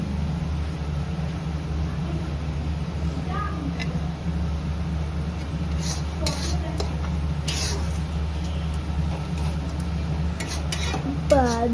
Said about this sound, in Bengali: তারপরে ভালোভাবে নাড়িয়ে ছাড়িয়ে নেব।